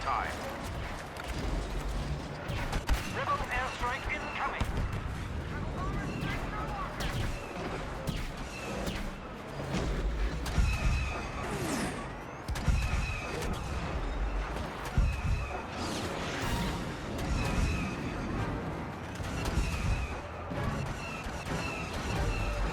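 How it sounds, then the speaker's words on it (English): Rebel airstrike in the Star Wars Battlefront beta, a run of heavy booming explosions and crashes mixed with mechanical battle noise, with spoken voice lines over it. "Rebel airstrike incoming."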